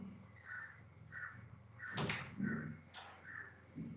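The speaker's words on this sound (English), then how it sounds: "Open the door." A door being opened during an IoT lab demonstration, faint soft clunks over a quiet room with a repeating electronic beep in the background.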